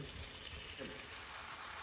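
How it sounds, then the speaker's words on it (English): Spinach leaves are rinsed under a running kitchen tap, a steady, even rush of water spattering on greens that stays constant for the whole short stretch, close and moderately loud. "rinsing under the running tap water is not enough because it has a lot of dirt on its leaves"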